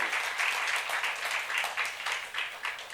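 A church youth-service congregation claps along in a steady, rhythmic beat, many hands striking together in regular pulses at a moderate, even volume with no talking over it.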